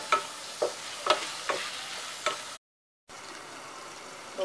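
Onion and tomato frying in a pan with broken green chillies, a soft sizzle marked by a few regular spoon scrapes, then a short gap of silence before the frying resumes, with no voices.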